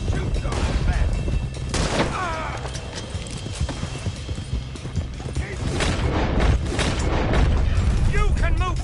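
Shootout in Red Dead Redemption 2 on horseback, scattered gunshots cracking over galloping hoofbeats and rattling tack, with characters shouting throughout.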